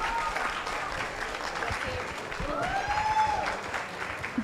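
A hackathon audience gives sustained applause, soft and steady, with a faint whistle-like tone sliding through the middle.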